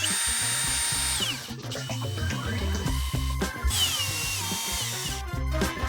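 A power driver whirs up and winds down twice, driving fascia screws through a composite Trex decking fascia board into the subframe, loud and close with a brief pause between screws.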